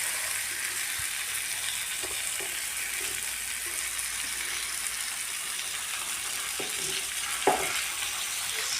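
Freshly caught fish fries in a pan with a steady, close, hissing sizzle, broken by a few soft knocks and clacks from turning it, with no talking.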